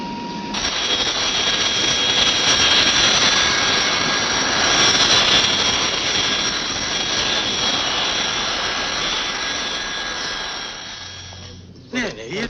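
A fixed-wing aircraft's jet engines roar loud and steady after landing, a sustained whine and rush that slowly fades toward the end, with voices speaking over it.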